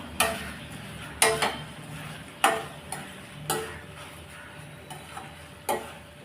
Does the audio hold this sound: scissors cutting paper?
no